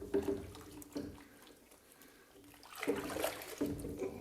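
Water sloshes and splashes in short bursts as a chicken is bathed, quiet and close, with a calmer stretch between the splashes.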